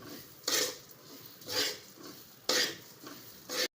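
Rice for kheer being stirred and toasted in a pot, four spaced scraping strokes of a spoon against the metal about a second apart, close and fairly quiet with no one talking.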